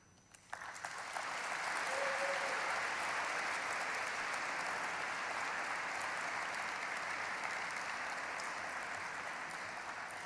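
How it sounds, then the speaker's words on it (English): Graduating class and crowd at a high school graduation ceremony break into sustained applause, a dense wash of clapping that swells within the first second and holds steady, fairly loud and continuous, for the rest of the stretch. "please offer your applause."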